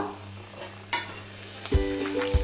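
Dry red chilli, bay leaf and whole cumin temper in hot oil, giving a steady close sizzle. A couple of spoon stirs and clinks against the pan cut in near the end.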